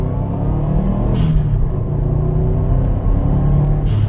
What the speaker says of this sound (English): We'll do another acceleration in intelligent mode to see how that compares.